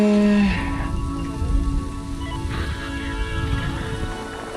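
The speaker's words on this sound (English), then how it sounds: "Can it please stop raining" Steady rain patters across a surface in the video game Planet Zoo, a soft continuous hiss with a few low tonal sounds rising and fading behind it.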